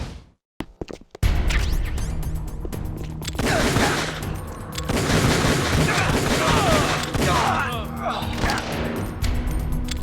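Gunfire in the Metal Gear remake video game, a dense run of rapid shots and bursts lasting several seconds after a brief quiet start, with faint voices in the background.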